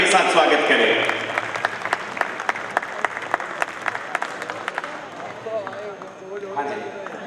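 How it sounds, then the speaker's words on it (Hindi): An audience at a university function in an auditorium claps loudly, dense applause at first that thins into scattered, distinct claps and fades, with people talking underneath toward the end. "जोरदार तालियों के साथ स्वागत करें।"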